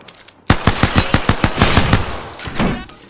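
Automatic gunfire in the arena mode of the video game Apex Legends, a close, loud burst of rapid regular shots after a brief silence, then a denser roll of fire that trails off.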